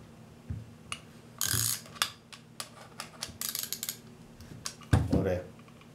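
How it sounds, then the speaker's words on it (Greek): Ratchet wrench working a bathroom faucet part loose, sharp clicking and ratcheting bursts in irregular clusters, close and fairly loud, with some faint talk in between. "Η καστάνια, η συγκεκριμένη,"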